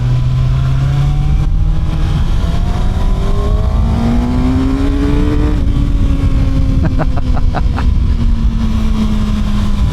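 A Kawasaki ZX6R 636 sport motorcycle at speed, its engine note climbing steadily through the gears with a loud, continuous high-pitched whine over heavy wind roar, with a brief burst of rapid revs near the end.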